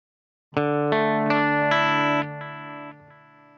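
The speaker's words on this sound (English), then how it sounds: "here's what this sounds like on quarter" Guitar chords played through a Strymon Timeline delay pedal on its quarter-note setting, several strummed hits in steady succession with sustained, repeating delayed tones ringing out, loud and close with no talking.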